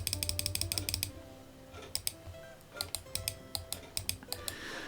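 Rapid clicks of a computer mouse while clearing menus in a sailing game, a quick burst of clicks at the start and scattered clicks later, over soft background music.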